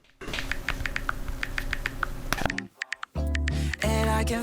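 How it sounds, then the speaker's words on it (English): A computer keyboard typing one word over and over to make a music production sample: quick, evenly spaced clicks close up, followed by musical tones. "that was actually me typing out maybe blue over and over again"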